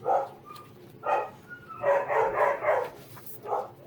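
Dogs bark in short yapping bursts, several barks in quick succession at moderate distance indoors, with no talk over them.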